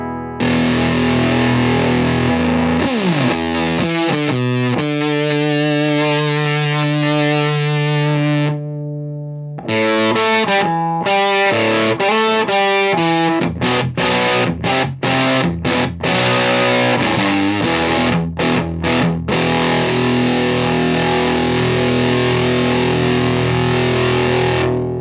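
An electric guitar plays through a Mark II all-analog transistor pedal on a boutique pedalboard, giving a thick, distorted tone: long sustained chords at first, then choppy staccato stabs with short silent gaps, loud and up close.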